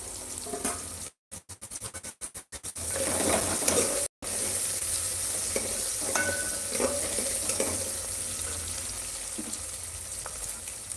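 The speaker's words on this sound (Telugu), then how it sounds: "ఈ ఆనియన్స్ కొంచెం వేగిన తర్వాత అప్పుడే దంచి పెట్టుకున్న వెల్లుల్లిపాయలు కట్ట కట్టగా దంచుకొని వేసుకోవాలి" Chopped onions and crushed garlic sizzle steadily in a hot pan while tomato rasam is cooked at home, with a stirring spoon scraping and clinking through the close, continuous frying.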